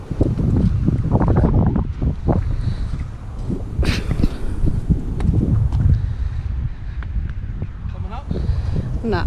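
Steady, loud wind buffeting the microphone with a constant rumble on the coast at Wollongong, Australia, waves or water faintly beneath and people talking over it.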